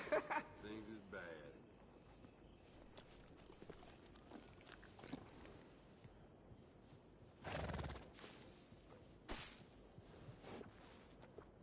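A horse in the video game Red Dead Redemption 2 neighs and whinnies, with hoof clip-clops and some footsteps, under a man's speech and game background sound.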